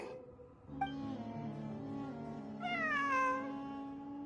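A cat meows in the video game Genshin Impact, with a sustained tonal backdrop of game music. There are two drawn-out meows, the second longer and rising, heard up close and fairly clear.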